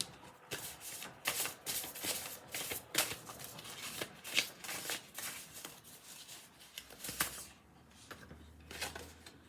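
Tarot and oracle cards are shuffled close by in a quiet room, a run of quick riffling bursts and soft slaps repeating steadily, with no talking.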